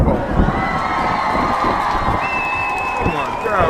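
An indoor crowd cheers and claps at a church gathering, a lively wash of shouts and scattered applause with voices and a high whistle-like tone rising above it.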